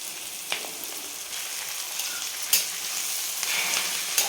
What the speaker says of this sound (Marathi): आता याच्यामध्ये भाजी सोडून द्यायची आणि फक्त 1 मिनिटभर आपल्याला खालीवर करून घ्यायची तेलामध्ये